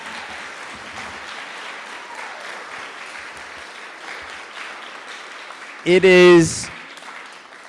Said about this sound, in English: can we give all of us a big round of applause for the last day?